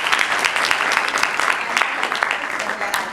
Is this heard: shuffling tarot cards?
no